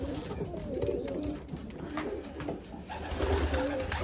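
Racing pigeons in a loft, including old race birds and stock birds, cooing steadily with soft overlapping calls at close range against a low background hum.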